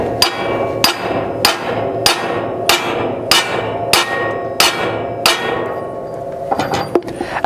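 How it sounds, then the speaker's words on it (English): A hammer drives a poly bushing into the closing wheel arm housing of a John Deere drill, striking about eight sharp, loud metallic blows at a steady rhythm, followed by a few quicker, lighter taps near the end. "You will hammer the poly bushing in 1/4 inch in past the outside of the housing to allow for the seal."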